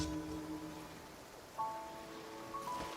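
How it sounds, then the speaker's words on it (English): Heavy downpour in the game Genshin Impact hisses as a soft, continuous wash of rain, fairly faint, with quiet tonal game music threaded through it and a brief brighter chime partway in. "Taking a stroll in the middle of a downpour certainly rouses the spirit."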